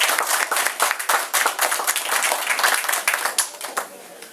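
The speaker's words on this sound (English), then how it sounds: "So I think that deserves a big round of applause." Audience at a youth football awards banquet breaks into steady, dense applause, loud and close, with many hands clapping together before tapering off toward the end.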